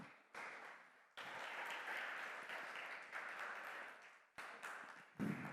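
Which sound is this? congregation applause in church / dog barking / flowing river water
congregation applause in church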